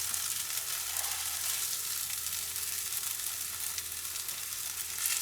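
Olive oil sizzles and crackles in a frying pan, a steady, close hiss with no talking.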